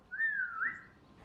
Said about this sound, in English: you should hear him whistle